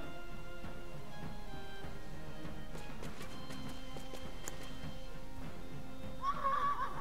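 A horse whinnies in the video game Wartales, a short shrill neigh near the end over steady game ambience with faint clip-clop and scattered background sounds.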